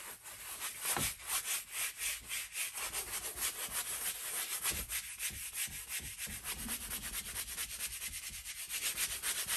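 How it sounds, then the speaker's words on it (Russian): A brush scrubs paint across a canvas in quick, continuous rasping strokes, working over the whole surface to lay down a first coat when copying an old master painting. The scrubbing is steady and fairly quiet, with no talking. "И я беру тройник и пачкаю весь холст."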